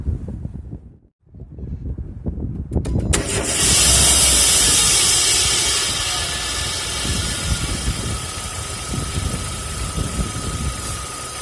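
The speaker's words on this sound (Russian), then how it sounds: "Заводим машинку и проверяем, чтобы нигде ничего не текло." A Renault car with a 1.4/1.6/2.0 K4J/K4M/F4R engine cranks and fires up after a brief quiet moment, then settles into a steady, loud idle with wind noise across the microphone.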